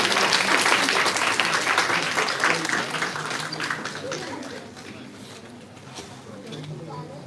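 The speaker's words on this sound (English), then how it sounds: "A big round of applause for all the team members." A seated crowd at a campus program and speaker session gives sustained applause for a team, loud dense clapping at first that gradually thins and softens toward the end.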